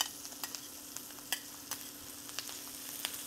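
Butter sizzles in a hot skillet where steaks are searing, giving a steady bright frying hiss with small pops and crackles throughout, close by and without talk.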